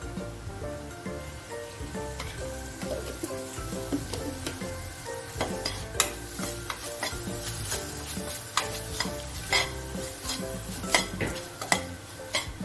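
Beans sauté with a little curd in a pan, a close, steady sizzle broken by frequent spoon scrapes and taps against the metal as they are stirred.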